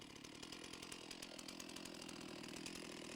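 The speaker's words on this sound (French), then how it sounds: "on dégraisse la chaîne avec un dernier coup de scie qu'on arrête dans le bois" A chainsaw cuts into wood with its chain running at a steady, loud, buzzing drone that holds evenly throughout without pause.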